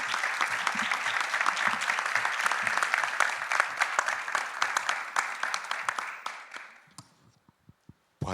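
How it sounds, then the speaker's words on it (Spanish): Dense applause from the audience at a true-crime round-table panel, loud and steady for about seven seconds before thinning out to a few scattered claps. "yo les voy a pedir pues un aplauso para todos ellos y para ustedes también."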